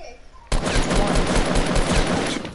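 Fortnite gunfire breaks out suddenly after a brief quiet moment, becoming a loud, sustained, rapid burst of automatic shots that continues steadily to the end.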